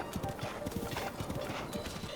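Horse hooves clip-clop in the video game Breath of the Wild. The rapid galloping beats come up close, loud and continuous over a rushing, noisy background.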